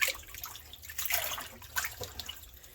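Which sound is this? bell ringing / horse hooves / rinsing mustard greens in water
rinsing mustard greens in water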